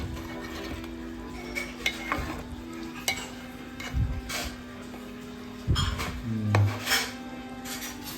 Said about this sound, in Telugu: దీన్ని ఇప్పుడు ఒక్కసారి కలిపేసుకొని ములక్కాయ ఎరగకుండా కలుపుకోవాలి నైస్గా